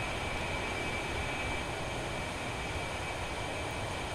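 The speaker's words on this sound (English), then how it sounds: "I've just started both engines to provide hydraulic power to the control surfaces" Twin jet engines of an A-10C idling steadily in the DCS flight simulator, a constant even whine and broadband rumble with no pauses, close and unchanging throughout.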